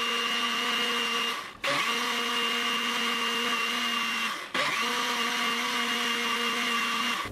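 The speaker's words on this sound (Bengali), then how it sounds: "এখন সবকিছু একটু ব্লেন্ড করে নিব" A kitchen blender whirring as it mixes a laban yogurt drink, a loud steady motor drone that stops briefly twice and restarts.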